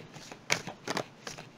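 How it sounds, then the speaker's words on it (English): Tarot cards slip out of the deck during shuffling in a few quick, close papery slaps and flutters, three distinct bursts in under two seconds. "why do I keep getting tons and tons of cards falling out here?"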